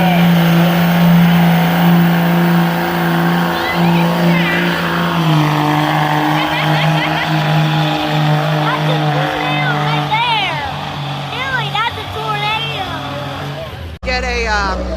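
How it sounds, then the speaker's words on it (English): Pulling truck engine revving hard at a county fair truck pull, a loud sustained roar with pitch climbing and wavering, then cutting off abruptly near the end, with crowd chatter and talk underneath. "He's getting those RPMs up."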